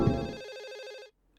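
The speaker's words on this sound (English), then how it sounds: "He does so, and the other phone starts ringing." A telephone in Silent Hill 4 gives one bright electronic ring of about a second with rapid warbling pulses, then cuts off sharply into silence.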